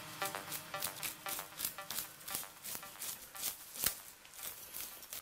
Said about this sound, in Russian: Счистим чешую.